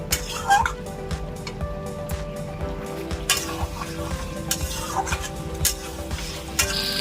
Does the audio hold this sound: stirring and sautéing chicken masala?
yes